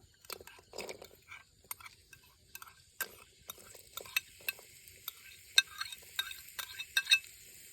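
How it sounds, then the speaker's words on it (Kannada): Chopped onions added to two or three spoons of hot oil in a pan, frying outdoors with light crackling and sizzling plus scattered stirring clicks and taps. "ಒಂದು 2-3 ಚಮಚ ಅಷ್ಟು ಎಣ್ಣೆ ಹಾಕ್ಕೊಂಡು, ಮತ್ತು ಇಲ್ಲಿ ಹೆಚ್ಚಿಟ್ಕೊಂಡಿರೋ ಈರುಳ್ಳಿ ಹಾಕ್ಕೊಳ್ಳೋಣ"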